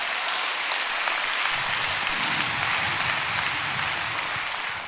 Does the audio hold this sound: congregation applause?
yes